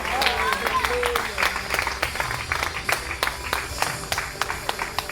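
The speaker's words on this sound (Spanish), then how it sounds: "Denle un aplauso al Padre, al Hijo y al Espíritu Santo." A church congregation applauds together in a steady round of clapping, mid-distance and lively, while a preacher's voice continues speaking over it.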